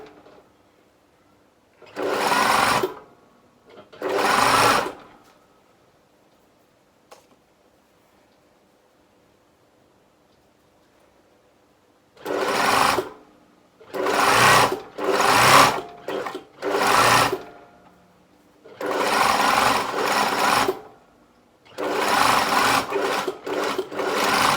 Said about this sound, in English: now I'm going to sew up the other way, making sure that my tops are matched